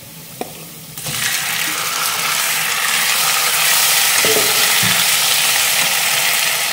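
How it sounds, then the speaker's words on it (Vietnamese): Loud, steady sizzling of chicken frying with golden garlic in a hot pan, starting abruptly after a second of quiet, with occasional scraping from stirring. "Tỏi vàng rồi mình sẽ cho thịt gà vô."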